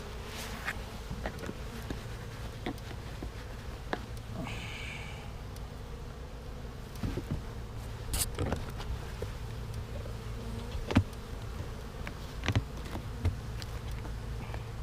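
Honey bees from a package colony buzz around their hive in steady, faint insect drone with scattered close fly-bys and small knocks, no talking.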